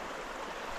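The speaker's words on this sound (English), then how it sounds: "Nice creek flowing through here." A creek flows along a hiking trail, a continuous broadband rush of running water heard close and steady, with no voices over it.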